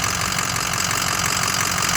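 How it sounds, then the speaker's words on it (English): A 2007 Ford F250 pickup idling with an MBRP 4-inch aftermarket exhaust, giving a steady, deep rumbling drone with even low pulsing, close and loud. "it's got an MBRP aftermarket exhaust, 4-inch. Sounds really good."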